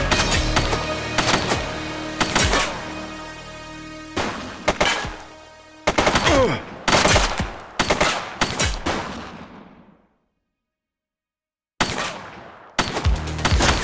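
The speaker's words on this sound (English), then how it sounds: "He's shooting!" Gunfire in the police video game The Precinct: loud, close bursts of rapid automatic shots and single cracks with shattering debris, broken by a few seconds of silence before another burst.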